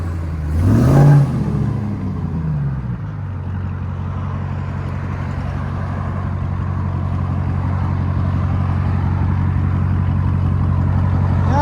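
A 2022 RAM TRX with a 6.2L supercharged Hemi V8 and muffler delete launches hard: a quick rising rev in the first second, then a steady, deep exhaust roar that holds and slowly pulls away.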